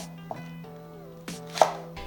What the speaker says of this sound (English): chop green onion into 1-inch pieces